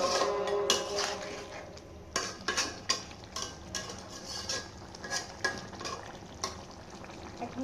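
A utensil stirs goat mutton with finely chopped onions in a cooking pot, making close, irregular scraping and clinking strokes over a soft, steady sizzle.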